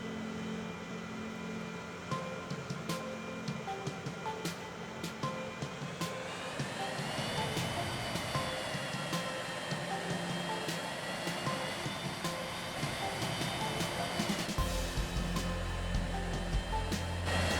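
A jet airliner descends toward landing in the Transport Fever 2 game on the Riverlands map, its engine whine a continuous loud drone that rises in pitch midway and deepens with a heavier rumble near the end.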